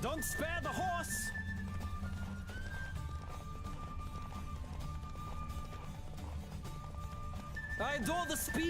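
A galloping horse in The Witcher 3: Wild Hunt keeps a steady hoof rhythm under game music, with short whinnies at the start and end and a rider's voice shouting over the ride.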